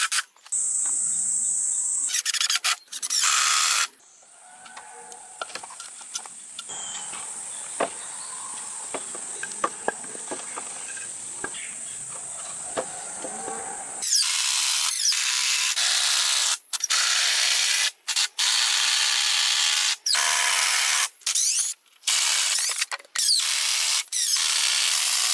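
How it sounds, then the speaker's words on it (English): A power drill whirs and stutters in repeated bursts, driving heavy-duty screws into wooden cabin beams with ratcheting pauses and short silences between runs. "joined the main beams using a drill and heavy-duty screws"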